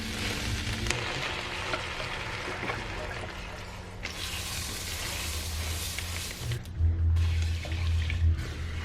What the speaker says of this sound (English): Like me stirring it now is making it better at the end